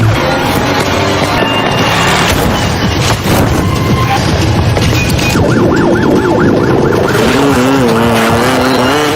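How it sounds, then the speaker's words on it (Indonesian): A police car siren wails in a rising and falling pattern during a chase, loud and close, layered over roaring engines and dense action noise. "mobil polisi sudah mengejarnya"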